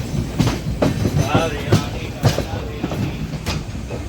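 Cocanada Express rolling past Kazipet Junction without stopping, carriage wheels clacking over rail joints in an irregular rhythm of sharp knocks over a steady rumble, heard from inside the train.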